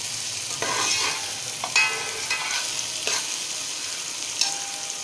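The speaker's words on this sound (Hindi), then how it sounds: "अब लहसुन को भी प्याज के साथ अच्छी तरह फ्राई कर लेंगे।" Garlic and onion fry in ghee with a steady, close sizzle and crackle, broken by a few scrapes and clicks of stirring across the few seconds, with no talking.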